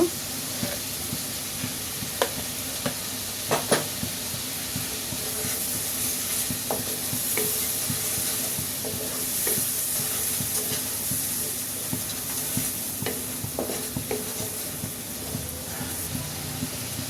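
Spice masala with salt sautéing in a pan for an egg, potato and tomato curry, a continuous close sizzle and hiss broken by scattered scraping stirs and clinks of a spoon against the pan.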